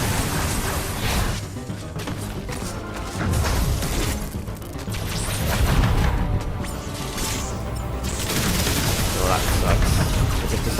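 Missile fire and explosions in the video game Metroid Dread, with rapid bursts and booms layered in continuous loud combat noise, and a voice talking over it.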